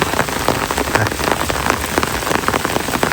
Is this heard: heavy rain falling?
yes